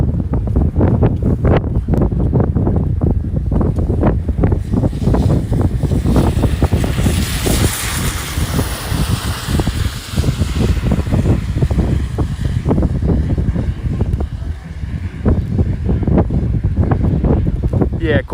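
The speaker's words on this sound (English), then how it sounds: "I just don't want the wind to get too much." Strong outdoor wind buffets the microphone at a livestream near SpaceX Starbase, Texas, a continuous loud rumbling roar with gusty surges that lasts throughout.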